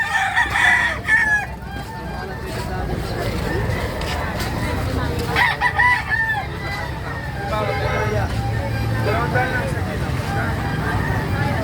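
Native roosters crow loudly nearby in Calumpit, Bulacan, Philippines, with hens clucking and people chattering in the background throughout.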